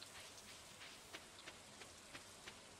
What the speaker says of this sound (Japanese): わあ、雨すごいな。